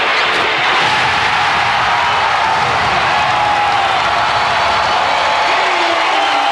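A basketball arena crowd at the 1995 NBA Finals, Houston Rockets against Orlando Magic, roars and cheers in a dense, sustained wash of noise that swells steadily throughout, with a commentator's voice faintly present.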